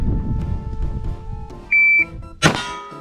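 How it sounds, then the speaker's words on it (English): A shot timer at a pistol shooting contest gives one sustained electronic start beep lasting about a third of a second, followed almost at once by a loud gunshot over outdoor background noise. "cuando se escuche el beep, es cuando va"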